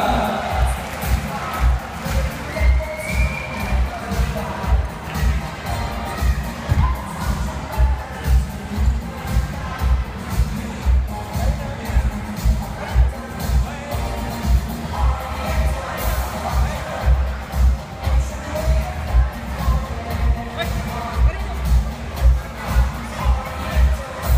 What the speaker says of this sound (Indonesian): Yuk semuanya tepuk tangan.